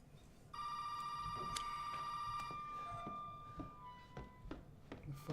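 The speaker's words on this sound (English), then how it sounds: "The fuck is the phone?" In a video game, a telephone bell rings in one long sustained burst lasting about two seconds, then gives way to scattered clicks and knocks, moderately loud with no talking.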